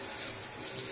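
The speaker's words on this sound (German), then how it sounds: "Jetzt drehe ich es um, mach die Dusche an." Handheld shower head spraying water into a fish breeding tank in an aquarium setup, a steady close hiss of spray throughout the short moment.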